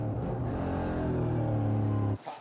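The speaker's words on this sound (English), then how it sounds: "Down through the gears as they come out of the Villeneuve chicane" A Formula 4 single-seater racing car on the Zolder circuit blips down through the gears out of a chicane, its loud, close engine snarling in sharp stepped bursts before cutting off abruptly near the end.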